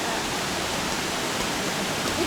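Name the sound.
waterfall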